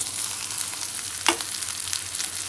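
Bitter gourd frying with onions in a pan on medium heat makes a steady, dense sizzle, close by, with one brief stirring scrape partway through.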